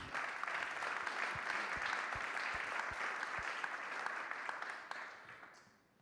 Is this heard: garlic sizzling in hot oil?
no